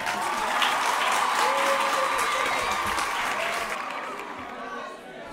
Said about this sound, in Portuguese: Ora, um forte aplauso.